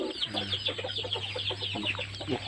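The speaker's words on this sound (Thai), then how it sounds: "ไก่ชนครับ ไก่ชนเหมือนกัน" Fighting cocks on a chicken farm cluck and call continuously, with several birds close by and a steady low hum underneath.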